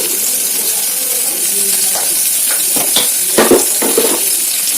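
Onions and green chillies frying in a pan over high flame, a steady sizzling hiss with a few scattered stirring clicks and clinks.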